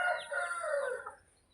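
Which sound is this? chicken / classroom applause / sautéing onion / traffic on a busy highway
chicken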